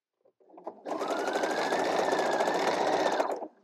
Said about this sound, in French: Donc je le couds sur l'envers avec un point zigzag.